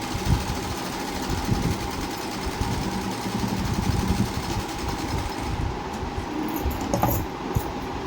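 A sewing machine stitches a blouse lining with a steady, fast mechanical whir. The motor hum runs unbroken and close throughout, without pauses.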